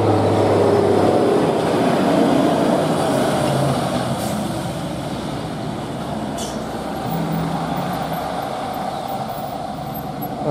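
Hino and Nissan trucks labour uphill on a steep climb, their diesel engines droning low and heavy over a continuous road rumble, with a faint hiss partway through.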